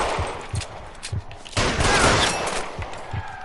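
Sustained suppressing gunfire in the LA Noire video game: loud rapid volleys of shots with a steady thumping rhythm, swelling into a denser burst midway.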